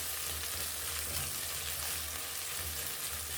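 Cabbage sautés in a hot pan with crumbled Royco chicken stock cubes, giving a continuous close sizzle and frying hiss with no voices.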